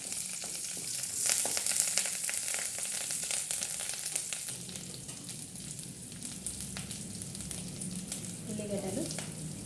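Onions, chillies and curry leaves sizzle and fry in hot oil in a pan on the stove, a steady close crackling hiss with occasional stirring scrapes and no speech.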